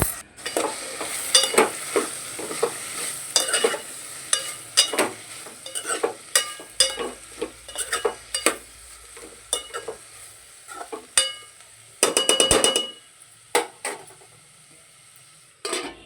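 Bitter gourd pieces sizzle in a pan for a masala curry while a spoon scrapes and stirs in frequent irregular strokes, with a brief rapid burst of clatter partway through.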